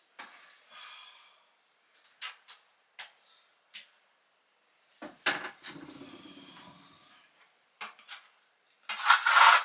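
A trowel scrapes and dabs mortar onto the back of a shower tile while tiling a tiny house bathroom: a series of short, close scraping and tapping strokes with brief pauses, then a louder rasping scrape at the end.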